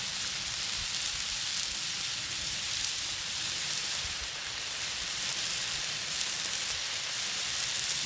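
Thick cut smoked bacon sizzling on a Blackstone griddle, a dense, steady hissing crackle heard up close, constant and loud without a break, no talk.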